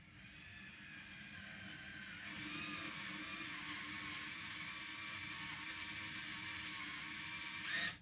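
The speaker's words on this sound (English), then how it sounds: "I drill a hole." A power drill fitted with a sized bit bores a hole into a thrifted Chantilly blanket box, giving a steady, loud whine that rises in intensity partway through and runs continuously before cutting off at the end.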